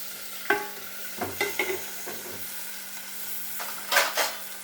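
Chopped tomatoes and green chillies frying in oil in a pan, a low steady sizzle punctuated by several sharp scrapes and clinks of a utensil against the pan, close by, with no speech.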